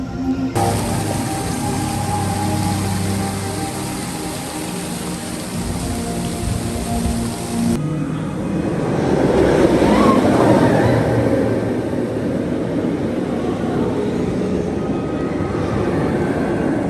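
The TRON Lightcycle roller coaster at Shanghai Disneyland running, heard as a broad, distant roar that swells in the middle and is mixed with crowd and park ambience.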